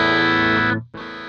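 Distorted electric guitar run through an Axe-Fx II, a sustained saturated chord that cuts off briefly as the delay block is engaged, then a quieter repeating delay tail continues alone.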